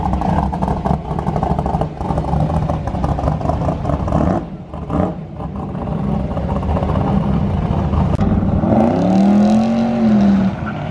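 A big-turbo Cobalt SS and a Stage 2 WRX racing a first gear street pull, steady loud engine roar under hard acceleration, with a rising turbo whine and a brief squeal near the end.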